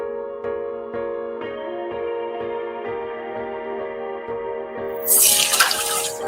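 A shower sound effect in a Filipino audio drama: water bursts into a rushing spray near the end, over soft background music and light dripping.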